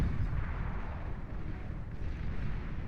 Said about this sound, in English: We have 2 artillery pieces firing away here.